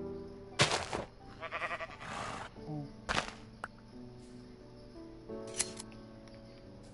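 A goat in the Minecraft video game bleats in a wavering burst amid sharp clicks and game noises, with a few other short sounds spread across the clip.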